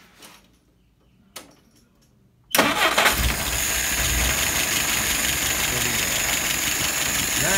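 An old 1948 vehicle engine cranks and fires after a quiet stretch with a couple of faint knocks, then settles into a loud, steady, rough running idle close by.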